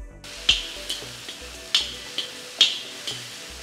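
Garlic fries in a pan for village-style goat boti curry, a close sizzle punctuated by several sharp clicks and scrapes of a spoon stirring against the metal, with no one talking.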